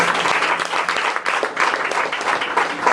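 An audience applauds a presenter at a school club event, with dense, loud, sustained clapping that swells and dips for a few seconds and has no speech over it.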